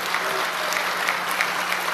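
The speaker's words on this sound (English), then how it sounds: "some claps out there" Applause from a large conference audience at a game developers' event, a steady wash of many hands clapping for two seconds with scattered louder claps, filling the room with no speech on top.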